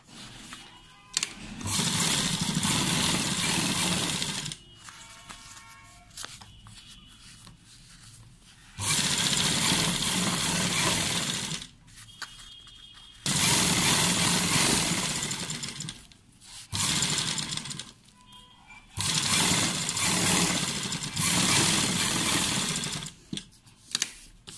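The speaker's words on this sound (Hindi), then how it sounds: "आप इसके ऊपर एक बिल्कुल किनारे पर सिलाई लगा दीजिए।" A sewing machine stitches right along the edge of a shirt collar in several long continuous runs, loud and close, broken by short pauses between passes, with no talking.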